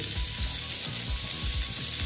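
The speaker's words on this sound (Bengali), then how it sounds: "কমিয়ে আস্তে আস্তে করে ভেজে নিচ্ছি।" Slices of pointed gourd (potol) fry slowly in a pan over low heat, giving a steady close sizzle with soft bubbling pops throughout, no voices.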